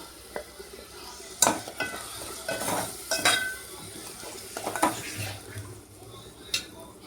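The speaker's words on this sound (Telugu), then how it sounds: "ఇప్పుడు ఇందులోనే టమాటా ప్యూరీ వేసుకొని బాగా కలుపుకోవాలండి." Tomato puree is stirred into ginger-garlic paste frying in a pan, with a soft sizzle under repeated metal scrapes and clinks of a spoon against the pan.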